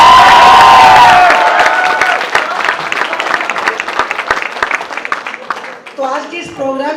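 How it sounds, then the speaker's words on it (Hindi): Audience applause at an engineering college freshers' party, a dense crowd clapping loudly at first, then thinning into scattered claps and shouts, with a voice speaking near the end. "तो एक बार अच्छी सी तालियां दीजिए।"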